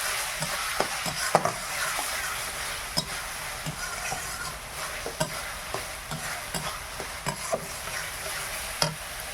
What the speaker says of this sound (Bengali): এবার পেঁয়াজটা ভেজে নেই